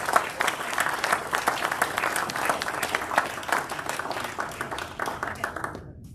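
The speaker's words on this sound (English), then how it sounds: "Can I just have a big round of applause, please?" An audience at a Rotary club meeting applauds, a dense sustained round of clapping from many hands that carries on evenly before stopping abruptly near the end.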